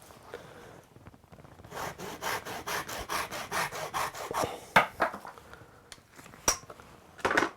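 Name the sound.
Japanese saw cutting the end off wooden chopsticks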